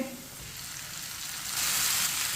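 Chopped onions and tomatoes frying together in a pan, a steady close sizzle that swells slightly in the second half.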